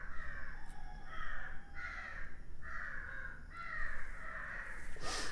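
Crows caw loudly outdoors in a repeated series of harsh calls, about six evenly spaced bursts over a low background hum, close and dominant.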